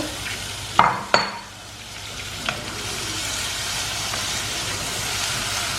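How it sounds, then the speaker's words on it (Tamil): Finely chopped onions frying in butter for palak paneer, a loud, continuous close-up sizzle that swells after a couple of sharp clatters from the pan and spoon early on. "ஸோ இப்போ வந்து நம்மளோட ஆனியன் வந்து ஃப்ரை ஆகிடுச்சு"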